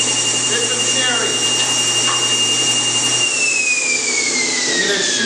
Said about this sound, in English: I'm going to shoot some cherry to you.